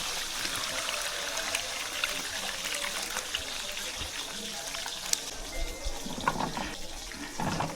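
Water runs steadily from a tap over cabbage and other vegetables being washed, a continuous splashing rush with occasional clatters and a voice talking now and then.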